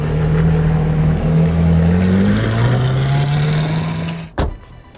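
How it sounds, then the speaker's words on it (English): A Lamborghini in Grigio Silverstone Opaco paint pulls away. Its engine pitch climbs and drops through gear changes at close range, followed by a sharp thump near the end. "I'm going to take the car and drive over there"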